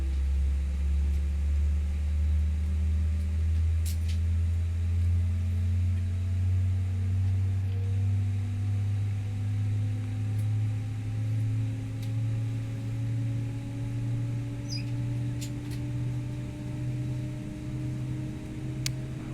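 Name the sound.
Airbus A319 CFM engines, flight simulator video game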